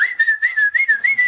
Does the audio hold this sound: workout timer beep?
no